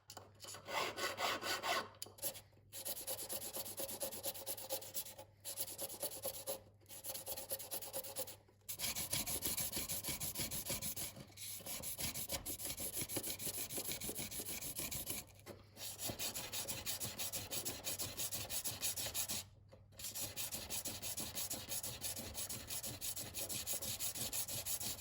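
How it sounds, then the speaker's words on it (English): A white gold ring being filed and sanded to shape, with continuous close rasping and rubbing strokes in a steady back-and-forth rhythm, broken by brief pauses over about twenty-five seconds. "I am filing the ring to desired dimensions and clean up tool marks with sandpaper"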